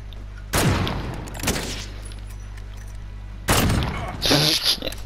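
A gold gun fires in Call of Duty in loud bursts of rapid gunfire: one near the start, a short one shortly after, then another heavy volley late with crackling impacts.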